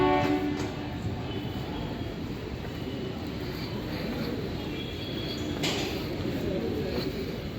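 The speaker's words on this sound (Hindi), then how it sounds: "अभी दोस्तों जो ये ट्रेन आई है ये हावड़ा से आई है" A passenger train from Howrah rolls into a platform at Dehradun station, giving a steady low rumble of wheels and carriages with brief higher squeals, moderately close and continuous without clear speech.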